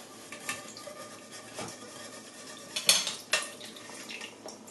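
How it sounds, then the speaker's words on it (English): Fried mince is drained of its oil through a sieve over the stove, with faint clinks and scrapes of metal utensils and pans and a couple of sharper knocks, fairly quiet overall. "I'm draining the oil."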